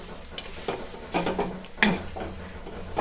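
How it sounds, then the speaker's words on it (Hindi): Ground spices and potato are stirred in a frying pan: a low sizzle under several brisk scraping strokes and a clank of utensil on pan, close and distinct, without voices. "काफ़ी अच्छी तरह से इसे मिक्स करते जाना है चलाते हुए।"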